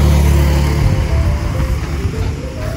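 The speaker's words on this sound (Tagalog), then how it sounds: "Pasensya na po ulit sa mga ingay ng sasakyan." Vehicles passing along a highway beside a small farm lot, a steady loud roadside rumble that swells and fades as traffic goes by, with no voices.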